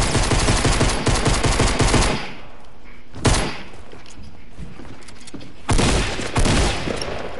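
Rapid bursts of pistol gunfire in a Fortnite-style battle royale video game, loud and close, with a long volley at the start and shorter clusters of shots later, sounding alone without talk.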